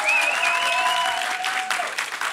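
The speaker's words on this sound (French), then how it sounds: "applaudissons vraiment, tu vois, comme si on était à Wembley" A large audience at a masterclass applauds loudly and continuously, a dense wash of clapping with a few whistles rising above it.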